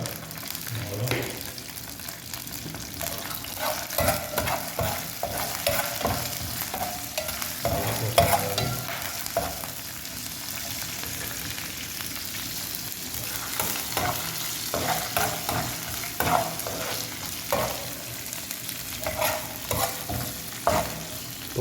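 Mustard seeds, urad dal and cumin fry in hot oil for a paruppu kulambu, giving a steady crackling sizzle with frequent scraping stirs, close and fairly loud, with a brief voice heard early on.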